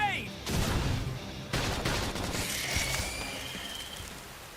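A flame grenade attack in the video game Xenoblade Chronicles X: loud bursts of crackling, rattling fire. They come in rapid blasts and then trail off into a softer hiss.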